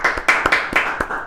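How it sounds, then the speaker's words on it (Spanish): A short burst of audience clapping for Jorge Rubiani, a few close, distinct claps in quick succession, loud and brief. "un aplauso fuerte para él"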